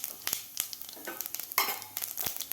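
Cumin seeds sizzling in hot oil in a kadhai, a faint crackle of small irregular pops and spits at close range, with no talking.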